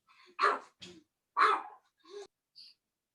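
A tiny 3.5-pound Chihuahua barks in a quick series of sharp, high yaps, five or six in short bursts with brief gaps, fairly close, in an otherwise quiet room.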